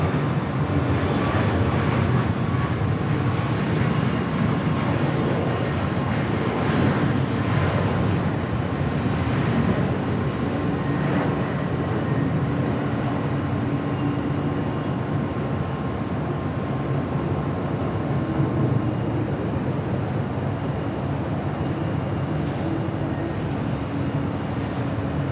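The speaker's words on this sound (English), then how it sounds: "That was United Airlines flight 2602 heading to Phoenix, Arizona. That brand new 737 MAX 9." A brand new United Airlines Boeing 737 MAX 9 departing LAX for Phoenix, a loud, sustained jet roar heard from a distance that holds steady throughout with a faint whine riding on top.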